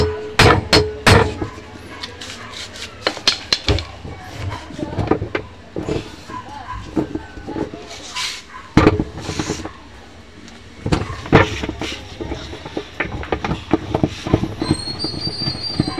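An impact drill driver works loose a stuck bolt in repeated bursts of sharp, rattling hammer blows. Short pauses separate the bursts, and the last seconds carry a thin metallic whine.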